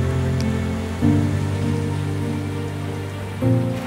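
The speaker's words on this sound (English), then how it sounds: "this is certainly no more light rain" Heavy rain drums steadily on the surfaces around the Solar Impulse solar-powered aircraft, a dense continuous hiss over a low droning hum that swells briefly twice.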